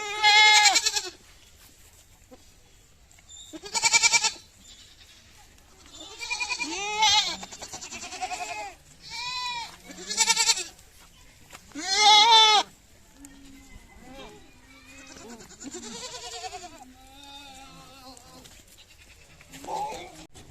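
Goats bleating repeatedly while eating green fodder grass on a farm in winter, loud harmonic calls in bursts every couple of seconds, some overlapping, with quieter munching between.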